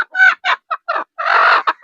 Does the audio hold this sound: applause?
no